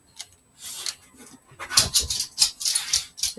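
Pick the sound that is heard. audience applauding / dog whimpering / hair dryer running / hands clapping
dog whimpering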